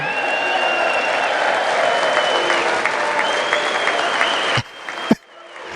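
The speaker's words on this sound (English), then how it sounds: "Is that Fetterman clapping?" A large crowd at the State of the Union address claps in sustained, dense applause that suddenly cuts off near the end, followed by a brief sharp sound.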